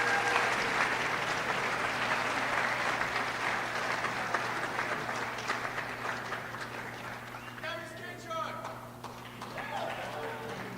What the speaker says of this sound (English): Can we give a round of applause to all these great teachers?